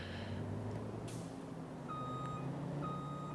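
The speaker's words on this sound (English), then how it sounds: "Trying to back a truck" Truck reversing alarm in Farming Simulator 25 beeping in steady, evenly spaced tones over a low idling engine rumble while backing up at a warehouse, with a brief air-brake hiss.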